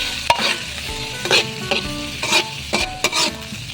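Mushrooms fry in a pan for tuna carbonara as a utensil stirs them, with a steady sizzle broken by repeated quick scraping bursts, close and alone.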